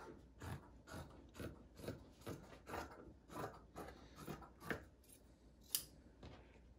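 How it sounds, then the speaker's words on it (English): Scissors snip through T-shirt fabric to cut it into a long strap, a steady series of about ten close, crisp cuts in an even rhythm, fairly quiet and without talk. "So to make a strap, cut on your lines."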